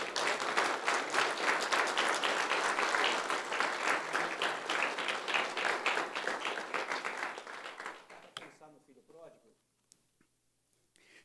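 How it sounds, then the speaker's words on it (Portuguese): A church congregation applauds in a sustained burst of clapping that fills the room, then thins out and fades to scattered claps near the end, with a voice heard underneath. "Quem pode dar uma salva de palmas nesta hora"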